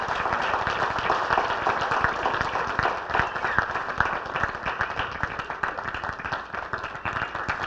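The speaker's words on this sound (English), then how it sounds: "a big round of applause" Banquet audience gives a long, steady round of applause honoring a guest, dense clapping from many hands filling the room at an even level throughout.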